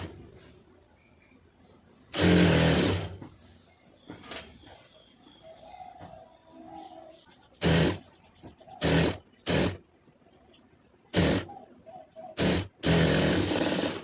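A sewing machine stitches a cigarette pant in several short bursts of rapid whirring, close and fairly loud, separated by quiet pauses with faint handling noises.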